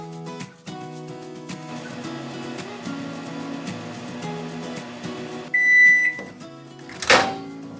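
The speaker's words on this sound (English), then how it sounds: "So I'm gonna put this in the microwave and show you what it looks like once it's done." A microwave oven heats a homemade cheese-puff dog treat, its steady electric hum running for several seconds before a loud finishing beep and then a clunk as the door opens.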